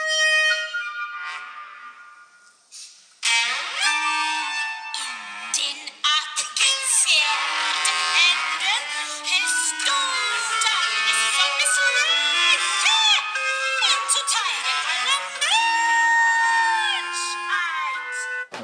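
Contrasting B section of Schoenberg's Pierrot Lunaire for chamber ensemble: dense, bright instrumental lines with sliding cello glissandi, a quiet opening phrase followed by a sustained, busy passage that stays loud and continuous throughout.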